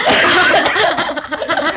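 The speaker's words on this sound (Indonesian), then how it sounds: "Sorry agak batuk dikit." A burst of harsh, noisy coughing close to the microphone, loud and rough, lasting under two seconds.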